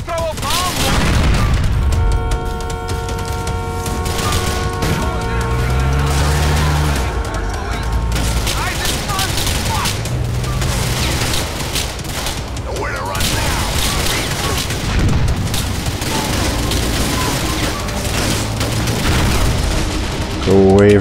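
Explosions from sticky bombs in the video game GTA The Ballad of Gay Tony, loud booms and bursts of gunfire-like cracks over a continuous game soundtrack with tonal music, with voices talking throughout.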